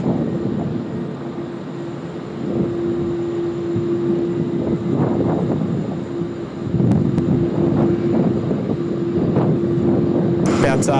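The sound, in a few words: T-Way Airbus A330 airliner arriving at Sydney Airport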